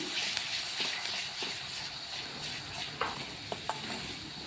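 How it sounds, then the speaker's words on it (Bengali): A paste of ginger, garlic, chilli, cumin and pepper being stirred in a pan for a mushroom curry, a soft steady sizzle with a few light scraping taps of the spoon, close and fairly quiet with no talk. "বাটা মশলাতে দিয়েছি আমি আদা রসুন লঙ্কা জিরে আর গোলকি ভালোভাবে মিক্স করে নিচ্ছি"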